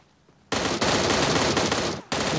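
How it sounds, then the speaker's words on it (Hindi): M16A4 rifle fire in PUBG Mobile: two loud, sustained rapid bursts of gunfire close up, separated by a brief gap, after a moment of quiet. "M16A4 के दो शॉट काफ़ी थे।"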